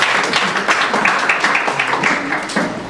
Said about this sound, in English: Ladies and gentlemen, big round of applause for Gizem,